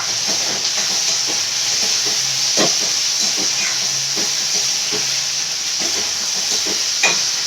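Tomatoes sautéing in oil in a pan for a fish curry, a loud continuous hiss and sizzle with scattered spoon scrapes and clinks throughout, no voices over it.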